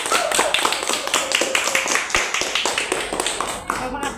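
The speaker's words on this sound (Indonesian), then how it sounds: "Beri tepuk tangan untuk kita semua." Group of students clapping hands together at a classroom session, a dense run of quick claps over several seconds at close range, with voices mixed in.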